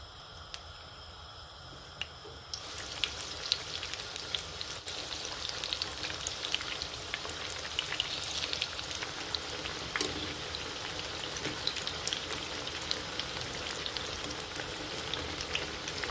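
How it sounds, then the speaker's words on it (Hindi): Pakoras frying in hot oil give a continuous crackling sizzle with dense popping bubbles, close and steady throughout. "चलिए अब हम चलते हैं पकौड़ों को फ्राई करने की तरफ।"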